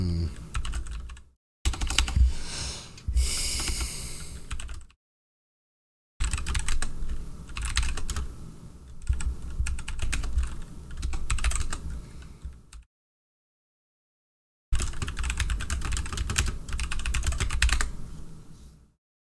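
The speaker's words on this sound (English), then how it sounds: "I actually typed this fast." Rapid typing clatters on a computer keyboard in several bursts separated by short silences, with quick dense keystrokes close to the mic.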